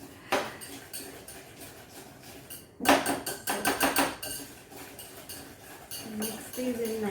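Egg replacer being mixed into gluten-free millet flour chocolate chip cookie dough in a bowl, with bursts of utensil scraping and clinking against the bowl, close and moderately loud, separated by short pauses.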